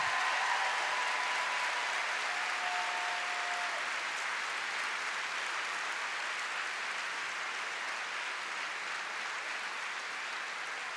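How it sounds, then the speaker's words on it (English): A large audience at a school opening event applauds bus drivers as they leave, a steady, sustained wash of clapping at moderate distance that continues evenly without talk. "can we give them a round of applause as they exit?"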